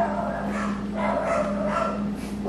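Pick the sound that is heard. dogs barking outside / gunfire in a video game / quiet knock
dogs barking outside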